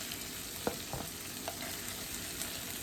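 Cabbage and sausage fry in a pan, a soft, even sizzle under a few light utensil taps and stirs, fairly quiet and with no voices.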